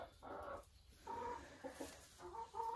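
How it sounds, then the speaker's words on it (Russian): Silkie hens and roosters cluck in a greenhouse coop at a country dacha, a faint cluster of short, soft calls repeating in bursts against a quiet background. "во второй части этой теплицы сидят шелковые курочки, 2 петушка"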